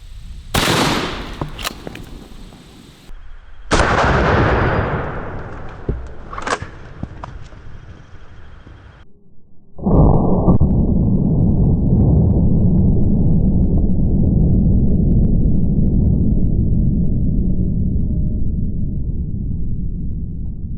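A shotgun fires a hollow point slug into a watermelon outdoors, sharp loud blasts with a few cracks early on, followed by a long, heavy, steady roar that fills the rest.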